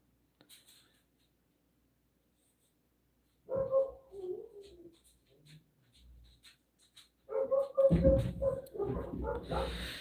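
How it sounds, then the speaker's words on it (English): Several dogs bark in loud, clustered bursts close by during a home livestream, with a voice and other talk around them. "And there's the dogs again."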